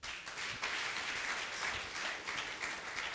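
A church audience applauds steadily, a dense wash of many hands clapping at moderate distance, continuous and even for the whole stretch with no talk over it.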